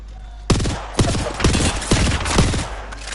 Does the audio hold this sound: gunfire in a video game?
yes